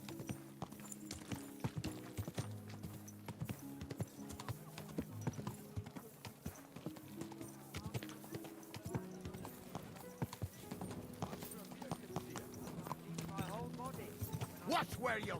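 Steady clip-clop of horse hooves over a musical background, with people talking now and then.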